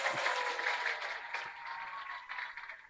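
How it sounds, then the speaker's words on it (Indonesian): A mosque congregation at a Maulid Nabi and Quran completion gathering applauds in a steady, moderately distant wash of clapping. "Tepuk tangan untuk jamaah sebelah sini."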